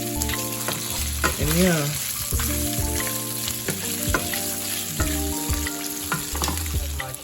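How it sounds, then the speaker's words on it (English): Bacon browns in a pan with a loud, continuous crackling sizzle and occasional stirring clatter, while a voice speaks briefly. "Now I have my bacon browning"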